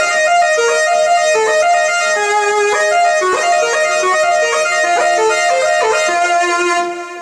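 ARP Pro Soloist synthesizer playing an electric guitar sound, a lively bright lead line from a solo, loud and sustained, with quick note runs and bends, unaccompanied by voices.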